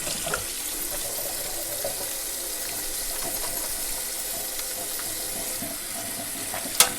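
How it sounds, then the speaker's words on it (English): Kitchen tap running steadily as hands are washed under it in a home kitchen, a close, continuous hiss and splash of water with a small clink near the end. "so I'm going to wash my hands again."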